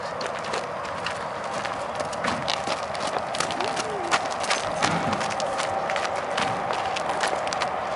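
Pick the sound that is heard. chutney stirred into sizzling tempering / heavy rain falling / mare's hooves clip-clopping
mare's hooves clip-clopping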